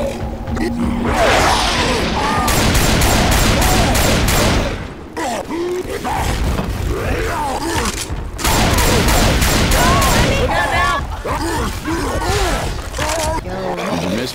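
Rapid gunfire in Left 4 Dead on The Parish campaign, dense bursts of automatic shots with loud roaring and growling infected, with voices shouting over the continuous din and brief gaps between volleys.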